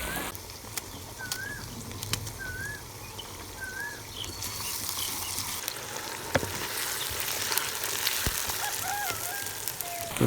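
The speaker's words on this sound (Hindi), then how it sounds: "इनको भी तकरीबन आधे मिनट के लिए फ्राई करेंगे।" Green chillies frying in a pan with a steady close sizzle and crackle, occasional light stirring clinks over the continuous hiss.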